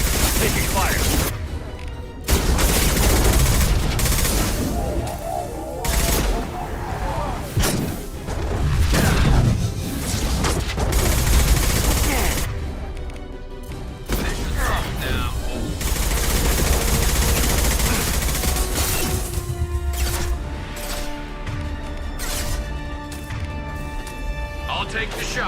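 Sustained firefight gunfire from Mass Effect 2, with dense overlapping weapon bursts, rapid automatic fire and heavy booms and crashes that run continuously, loud and close, while voices speak intermittently over the shooting.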